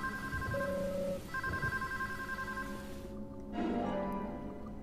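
A telephone ringing in the video game Deadly Premonition, a steady repeating electronic bell tone in pulses that cuts off, then a brief ambient swell.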